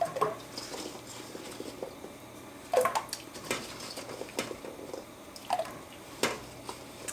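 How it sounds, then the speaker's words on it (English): Halved baby potatoes, three pounds in all, drop into a pot of warm salted water, giving a few separate wet plops and splashes spread over several seconds against a quiet background. "And then we're going to add 3 pounds of baby potatoes that I've cut in half."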